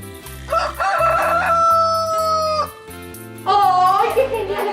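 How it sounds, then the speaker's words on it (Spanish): A rooster crows a loud, drawn-out cock-a-doodle-doo twice, set over a steady, rhythmic children's song backing with a prominent bass pulse. "¡Oh! ¡Este animal es un gallo! ¡Es un gallo!"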